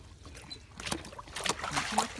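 A Great Dane drinking from a swimming pool, with soft lapping and sloshing water splashes close by, faint background murmur and no clear talk.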